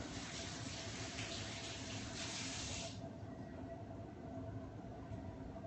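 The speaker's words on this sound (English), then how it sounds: "I'm gonna wash my hands real quick." A kitchen tap runs steadily while hands are washed beneath it, a continuous soft hiss of water with a brighter splashing stretch early on before it settles.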